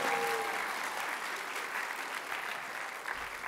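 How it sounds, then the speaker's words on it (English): Audience at a Broadway concert show applauding, a steady dense wash of clapping filling the whole stretch at full strength. "Let's give those people a round of applause."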